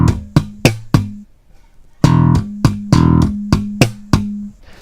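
Slapped bass guitar playing a short percussive pattern of thumb-slapped dead notes and pitched slap notes, loud and close, in two clear phrases separated by a brief pause.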